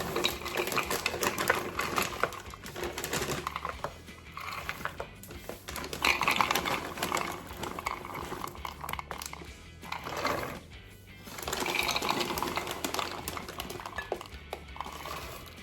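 Whole and crushed nuts being ground in a small electric food chopper for banana nut bread, a loud whirring, rattling buzz running in long bursts with brief dips between pulses.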